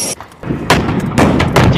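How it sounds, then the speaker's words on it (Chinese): A US tank battalion fires on Chinese army hilltop positions from a road north of Suwon, Korean War, 1951: several loud, heavy booming blasts separated by brief rumbling pauses. "美军的坦克营在水源北的公路上向着志愿军阵地轰炸"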